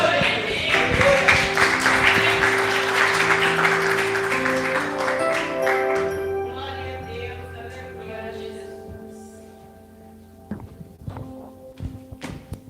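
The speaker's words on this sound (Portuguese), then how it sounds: "Palmas ao Senhor." Church congregation clapping in praise during a worship service, a dense patter of hands mixed with sustained instrumental music, gradually thinning out, with a few scattered claps and knocks near the end.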